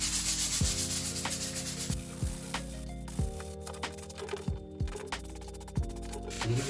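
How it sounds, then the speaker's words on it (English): Light hand sanding with a pad over filler on a Porsche 911 997 leather car seat, quiet rubbing strokes in short repeated passes, close up, with faint background tones. "I'm going to do a bit of light sanding with the same sanding pad just to take off any ridges"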